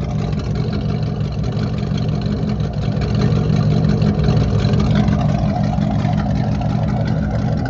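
A 1978 Pontiac Trans Am with its 6.6-litre Pontiac 400 V8 rumbles steadily, a continuous loud engine drone that swells slightly midway as it pulls off for a short cruise.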